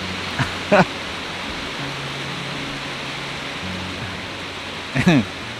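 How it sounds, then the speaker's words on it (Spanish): Heavy rain falls nearby as a steady, even wash of noise, broken by two brief vocal sounds near the start and end. "es el, el, río de la lluvia que cae ahora acá"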